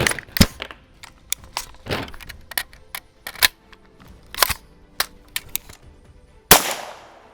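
An ATI Omni Hybrid polymer AR rifle fires 300 Blackout subsonic and supersonic rounds in a string of sharp, irregular cracks, some louder than others, ending with one heavy shot that rings out with an echoing tail.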